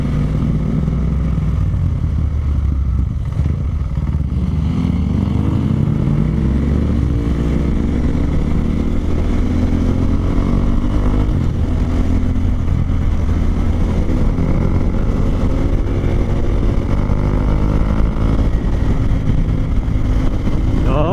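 A Yamaha Mio motor scooter races along at speed, its engine droning loud and steady with rising and falling pitch as it accelerates, plus constant wind rush close to the rider.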